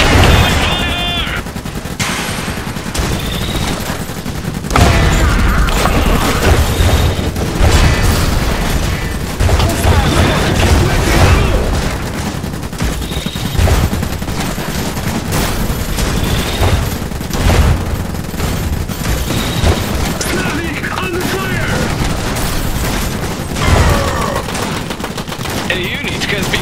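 Relentless gunfire, machine-gun bursts and booming explosions from the real-time strategy game Iron Harvest, with Polania mechs in battle, form a loud, dense battle din throughout, with occasional in-game voice callouts mixed in.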